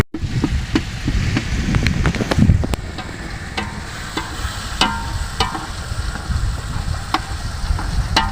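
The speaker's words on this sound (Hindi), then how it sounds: "मैं तड़का रख रहा हूँ" Tadka of spices tempering in hot oil: close, continuous sizzling with scattered sharp crackles and pops, louder at first and then settling to a steadier fry.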